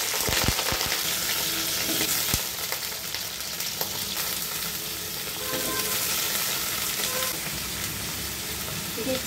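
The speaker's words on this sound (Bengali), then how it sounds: "ভাজা হয়ে গেছে, দিচ্ছি সবজিগুলো" Potato, pointed gourd and pumpkin pieces hit hot oil seasoned with dried red chillies for a Bengali dal, giving a strong steady sizzle with scraping stirs and a few clatters, close and loud, no talking.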